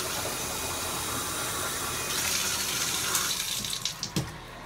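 Tap water runs steadily into a plastic cup at a sink, a broad close rush that shifts in tone as the cup fills, with a few splashy knocks near the end.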